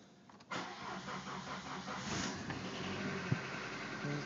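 A 1995 Dodge Stratus with the 2.0 engine, worn at 240,000 km, cranks briefly and fires up from cold, then settles into a steady, fairly loud idle, heard close up with no talking.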